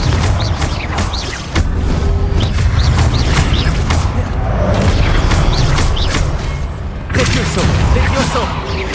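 Confringo explosion spells in the video game Hogwarts Legacy, loud booming blasts and crackling bursts in rapid sequence amid combat noise, with a voice calling out at times.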